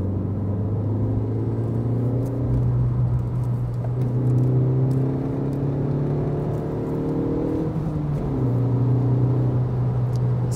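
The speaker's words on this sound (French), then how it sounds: "il y a un joli bruit de montée dans les tours" A 2000 Volkswagen Lupo GTI engine revs up as the car accelerates, rising through several gears with brief dips at the shifts, a steady close in-cabin drone.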